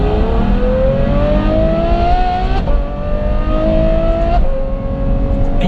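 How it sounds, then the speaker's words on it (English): A Ferrari F12 fitted with a Novitec N Largo exhaust revs hard and loud, the engine note climbing steadily through two long pulls with short breaks between shifts. "the overriding dominant factor, is this exhaust system"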